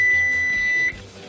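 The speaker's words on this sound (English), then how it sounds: "4-minute timer is now going off" A kitchen oven timer beeps, one steady electronic tone sounding for almost a second and then stopping. It is close and clear against a quiet room, and no voices are heard.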